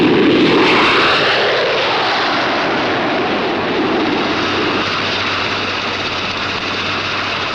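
Loud, steady roar of an aircraft engine sustained throughout, a broad rushing drone with no break, close and dominant.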